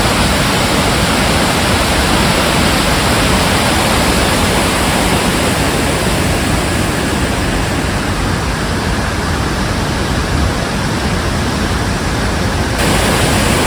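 Water pouring over a stone dam and weir on the River Dane, a dense steady roar of rushing water that fills the whole span without pause, loud and close, no talk.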